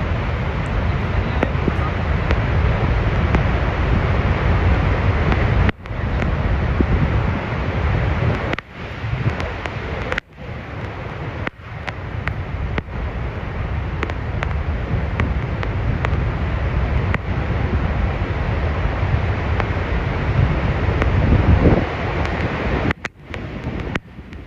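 Athirapally waterfall roars in a steady, dense wash of loud rushing water that fills the whole scene, with a few brief dropouts where the sound cuts away.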